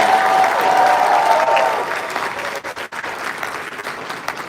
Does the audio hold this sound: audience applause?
yes